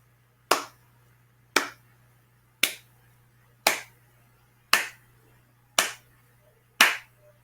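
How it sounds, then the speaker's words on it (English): Seven sharp hand claps ring out one by one at an even pace, about a second apart, close and clear against a quiet room with a steady low hum beneath. "I'm going to clap my hands for the next time"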